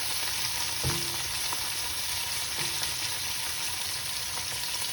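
King prawns fry in hot oil with a constant close sizzle, while a utensil stirs them with a few soft scrapes and clicks; no one speaks.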